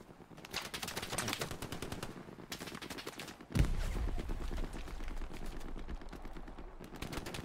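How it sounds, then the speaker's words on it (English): Machine gun fire in the World War II shooter Hell Let Loose, rapid bursts of automatic shots at moderate distance, with a heavier nearby blast midway and continuing fire afterward. "Trying to pinpoint that MG."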